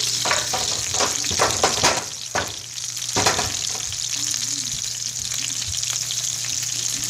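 Shrimp sizzle and fry in a pan with garlic, chilies and parsley for Spanish garlic shrimp, with a steady close hiss, a low hum beneath, and repeated scraping and stirring clatter as the pieces are flipped and moved around; no talking.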